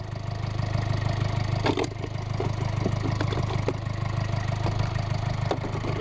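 A Mercedes Vito van engine idles steadily while warming up, with a low, even rumble and light mechanical clatter, running continuously throughout.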